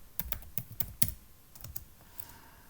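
Quick, uneven keystrokes on a computer keyboard, about a dozen close, crisp clicks in short bursts with brief pauses between, heard alone in a quiet room.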